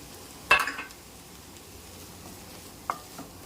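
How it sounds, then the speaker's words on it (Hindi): Flour fries in a pan with chicken and vegetables for Russian cutlets: a faint, steady sizzle broken by two clattering stirs of a spoon against the pan. "चिकन के साथ सब्जियों के साथ अच्छी तरह हमें मैदे को भून लेना है।"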